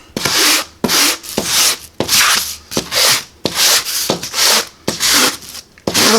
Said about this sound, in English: So I want a little bit finer sandpaper.